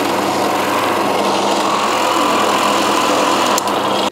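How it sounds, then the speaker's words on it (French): Drill press with a Forstner bit boring a cavity in a Telecaster guitar body, a loud steady motor whine and cutting drone holding level throughout with no speech. "On se met sur la perceuse à colonne, ça c'est pas indispensable"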